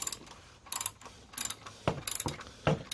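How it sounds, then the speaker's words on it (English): A ratchet wrench tightens the plastic oil filter cap on a 2017 Jeep Cherokee 3.2L V6 during an oil change. Several short bursts of close, rapid clicking ratchet strokes are separated by brief pauses. "Once it gets close, turn your wrench back to clockwise"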